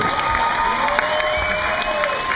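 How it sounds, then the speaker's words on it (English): Resort audience at an island dance show applauding hula dancers on stage, steady dense clapping from a crowd with scattered voices, held at an even level throughout. "put your hands together again for our hula maidens here on this stage"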